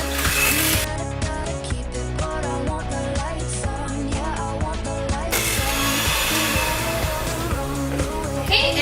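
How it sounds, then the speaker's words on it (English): Batter with four ingredients is beaten and mixed together, a rapid, dense rhythmic whirring and rattling that runs continuously and close by. "you just have to beat it up. You just mix it all together"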